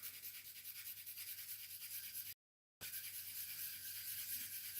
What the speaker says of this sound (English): So 1500 grit. Sandpaper still wet.